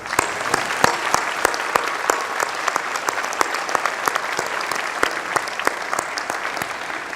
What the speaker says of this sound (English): let's give a round of applause for the faculty